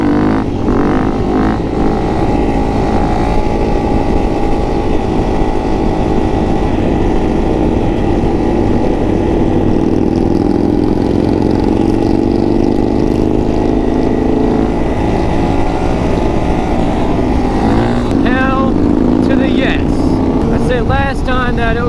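Many supermoto motorcycles in a large group ride drone together at close range, a loud continuous engine roar with rising revs near the end, and someone talks over it.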